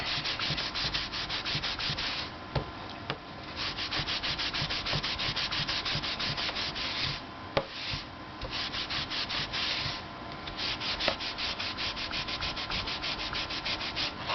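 Rapid, steady back-and-forth rubbing as latigo leather cuffs are scrubbed clean with Lexol leather cleaner, a close, dense scraping rhythm that runs without pause and with no talk.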